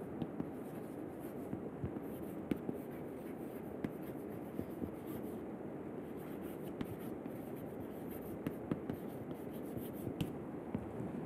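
Chalk or marker writing on a lecture board during a thermal gradient lesson, faint scratchy strokes and light taps spread across a quiet room with no talking.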